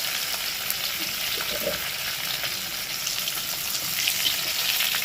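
Pomfret fish frying in a pan on high heat gives a steady, loud, continuous sizzle that stays even from start to finish, with no one talking.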